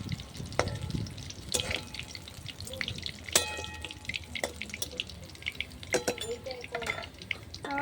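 Pakoras made with beef fat sizzle in a pan of oil, with sharp irregular pops and crackles over a soft frying hiss, close by, with some faint clattering and low voices in the background.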